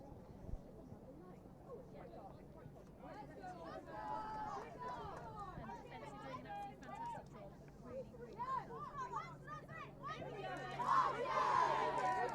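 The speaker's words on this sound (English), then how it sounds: "Oxford are getting ready before Cambridge to give their cheer before running back on the pitch." Oxford University lacrosse team shouting their cheer on the pitch during a timeout against Cambridge, a rising group of voices and whoops building loudest near the end, with crowd chatter around.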